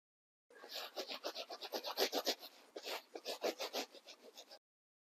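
Felt sandwiched between layers of bubble wrap being rubbed by hand, a close, steady run of soft rhythmic scratchy strokes, about twenty in quick succession with a brief pause midway.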